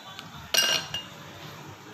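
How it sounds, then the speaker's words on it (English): Ice cubes dropped into a Pilsner glass while an iced orange Americano is made give a few sharp clinks and rattles, one loud cluster followed by single knocks, close up and with no voices. "So these are the ice cubes what I am putting in the"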